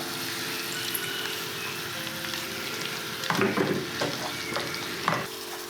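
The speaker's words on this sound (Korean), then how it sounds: "그리고 양념장을 넣고 타지 않게 빠르게 볶아줍니다" Potatoes, onions, green chili and seasoning sauce stir-fried quickly in an oiled pan, heard as a continuous close sizzle with bursts of scraping and tossing in the second half.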